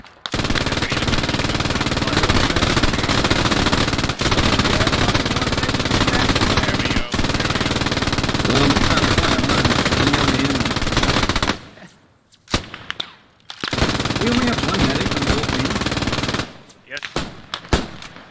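Sustained machine-gun and rifle fire from the WWII shooter Post Scriptum, At the Front realism mod, battle at La Bistière, loud and continuous for about eleven seconds, then breaking into scattered bursts with short pauses, with voices talking faintly underneath.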